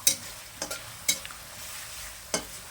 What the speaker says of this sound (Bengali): ভালো করে সেটা পেঁয়াজ রসুন সব কিছুর সঙ্গে মিশিয়ে দিন।